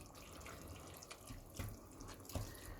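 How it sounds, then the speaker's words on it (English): Water poured into a simmering lasagne sauce makes a faint, continuous trickle in a kitchen, with a few soft drips or splashes near the end. "I'm going to pour in about 150 ml of water"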